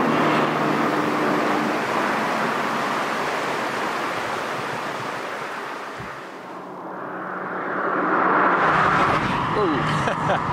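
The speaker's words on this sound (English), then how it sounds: "it still has a pocket of major wind noise right here off your ear" Steady broadband wind roar inside a Mazda MX-5 RF retractable fastback with the top closed while driving, loud and continuous, dipping briefly near the middle before rising again.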